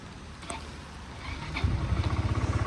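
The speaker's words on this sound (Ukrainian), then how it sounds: "Так, по двигунчику гарно заводиться, працює, чистенько, тихенько." A 2016 Yamaha Majesty 155 S scooter engine starting up and running, a close, rapid rhythmic putter that builds and settles into a steady idle, with faint clicks beforehand.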